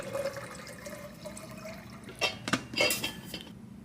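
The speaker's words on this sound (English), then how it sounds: "I'm going to fill up my water." Water running into a bottle in a classroom, preceded by a low steady hum, then a few clinks and splashy pouring bursts near the end, close and moderately loud.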